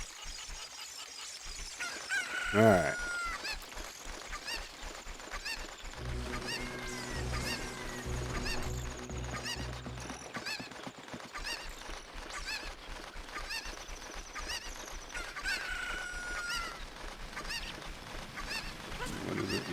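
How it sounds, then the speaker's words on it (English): Chickens in Ocarina of Time 3D cluck and squawk in scattered bursts over busy game music and effects, with one brief spoken word. "my struggles with grabbing chickens"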